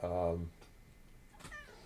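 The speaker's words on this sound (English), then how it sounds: "You're a nice kitty, Mia" A house cat gives one short, clear meow close by, then everything falls to near silence with faint ticking.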